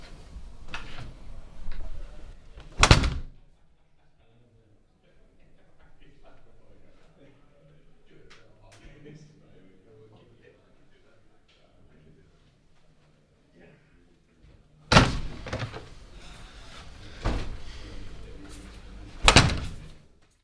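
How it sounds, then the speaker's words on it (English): A door pushed shut in a wrestling promotion's backstage room lands as a sharp, loud thump near the start, followed by a long quiet stretch of faint room noise and shuffling before two more heavy bangs near the end. "Close the door."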